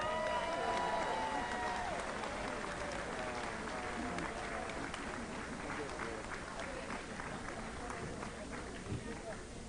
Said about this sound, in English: A big round of applause for Wade Hooper!